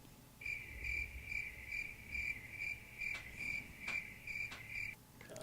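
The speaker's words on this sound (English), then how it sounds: "I'm putting crickets in." Crickets chirp in a steady, evenly spaced pulsing trill, one insect clear and close against a soft noisy background, with no talking.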